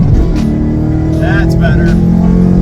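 A BAMA 93 race-tuned car engine revs hard toward redline, a loud sustained drone climbing in pitch, heard up close from inside the car with a voice speaking over it.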